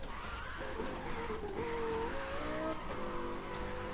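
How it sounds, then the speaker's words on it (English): A car in a PS4 racing game sliding under the e-brake, its tires squealing in a long wavering whine over a steady engine drone, close and fairly loud without speech. "I can also e-brake with this thing pretty well."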